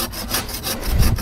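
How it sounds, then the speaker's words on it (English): A handsaw cuts through wood in quick, rhythmic back-and-forth strokes, rasping and close, with the strokes growing heavier toward the end and no voices. "I like using a handsaw"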